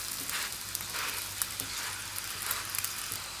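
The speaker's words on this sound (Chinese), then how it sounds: "烙制30秒，继续翻面。" Flatbread made from flour and water sizzling steadily in a hot pan while it is turned over, a dense close frying hiss with small soft taps as it is flipped.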